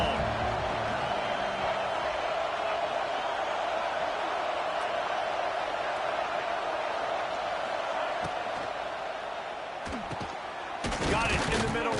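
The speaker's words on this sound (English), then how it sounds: "This crowd bringing the energy and noise early." Stadium crowd in College Football 26, a steady, loud roar of cheering that holds through the whole stretch and swells near the end, with broadcast commentary running over it.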